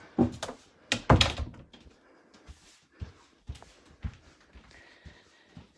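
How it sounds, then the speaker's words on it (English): A house door is shut with a couple of loud thunks close by, followed by softer knocks and footstep-like bumps fading into a quiet room. "I need to go close the door"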